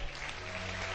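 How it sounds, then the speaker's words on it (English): Worshippers at a church service clap their hands to Jesus, a brief, steady wash of applause heard at a moderate distance and somewhat muffled. "Clap your hand to Jesus"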